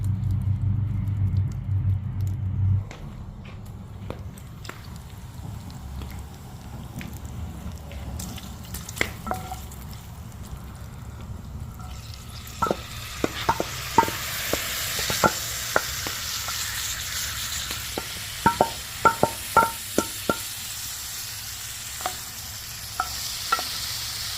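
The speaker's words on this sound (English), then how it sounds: "I'm going to start cooking the bacon" Bacon frying in a pan over an outdoor fire pit, a steady soft sizzle with scattered pops and crackles growing busier toward the end, no talking.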